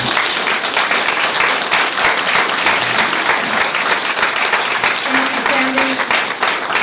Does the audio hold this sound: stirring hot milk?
no